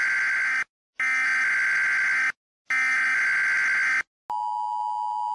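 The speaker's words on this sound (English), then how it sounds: "The emergency broadcast system tone," An emergency broadcast system alert tone plays alone: two long, loud, steady electronic tone bursts separated by brief silences, then a different, thinner continuous tone.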